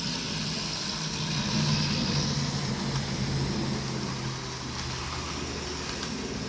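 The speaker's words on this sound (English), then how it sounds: "That's another plane" An airplane drones overhead, a steady low engine rumble swelling slightly and then easing as it passes, heard from a distance over a constant background hum.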